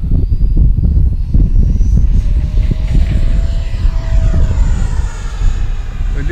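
Small FMS Futura 64 electric ducted fan RC jet flying on a cloudy day, a steady loud whooshing fan whine sustained throughout, shifting slightly in pitch as it passes.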